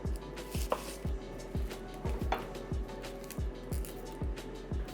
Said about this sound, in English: we are going to cut a yellow onion